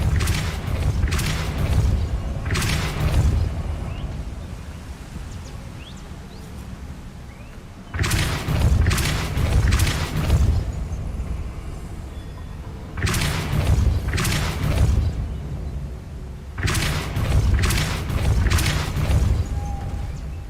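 A Depulso spell in the game Hogwarts Legacy fires repeatedly as a set of loud booming whooshes, several heavy bursts in a row over a constant rumbling background.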